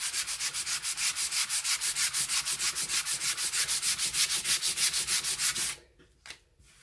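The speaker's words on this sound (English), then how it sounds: "why am I sanding this wood before I paint it?" Wood sanded by hand in a circular motion before painting, a close rhythmic scratching rub with evenly pulsing strokes that stops abruptly, followed by a couple of faint knocks.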